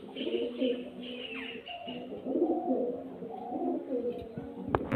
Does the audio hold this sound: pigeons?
yes